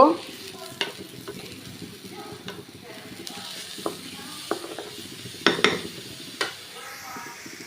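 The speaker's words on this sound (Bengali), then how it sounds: "তো আমি আর একটু ভেজে নিব।" Food frying in a pan with Maggi masala added, a soft steady sizzle close by, punctuated by occasional clinks and scrapes of a utensil against the pan, with no one speaking.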